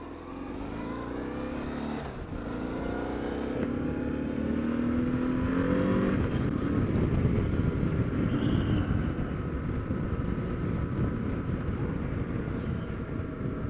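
A 1995 BMW R1100GS motorcycle engine fires up and settles into a steady idle, the low rumble building after the start and continuing evenly at moderate distance, with no talking over it.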